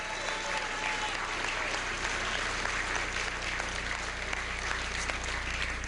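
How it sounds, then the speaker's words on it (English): A crowd at an election night speech claps and cheers for a Pennsylvania candidate, a dense, sustained roar of applause from a large room that stays fairly even throughout. "Give him a round of applause."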